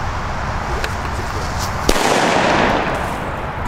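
New Year's Eve fireworks and firecrackers crackle continuously as a dense, noisy backdrop, with a sharp bang near the middle followed by a louder fizzing burst that slowly fades.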